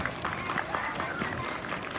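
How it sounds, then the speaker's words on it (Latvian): A crowd applauds at a dance festival concert in Olaine, greeting a children's kindergarten dance group as the first performers, a steady wash of clapping under a voice speaking. "nebeidzami aplausi pirmajiem koncerta dalībniekiem"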